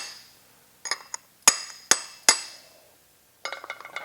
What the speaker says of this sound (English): We just have a piece of tube stock here. And I'm going to drive that down.